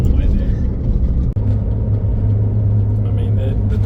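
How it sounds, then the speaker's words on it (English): A car on the road heading for fuel, its engine giving a steady low rumble from inside the cabin, with a brief dropout partway and someone talking throughout. "So now I'm just driving to get some fuel"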